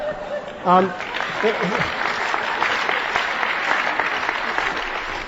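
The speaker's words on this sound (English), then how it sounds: "I don't know if you're applauding the questioner or me" Sustained audience applause at a lecture on competition, a dense steady wash of clapping from a large crowd, preceded by a brief voice and some laughter at the start.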